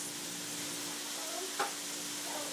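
Peppers and onions frying in a pan, a steady soft sizzle with one brief knock partway through, no talking.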